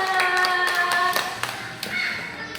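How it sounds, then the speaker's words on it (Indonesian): Hands clap in a classroom, a brief scattered patter of claps alongside a sustained tonal sound, close and fairly loud. "Tepuk tangan untuk kita semua."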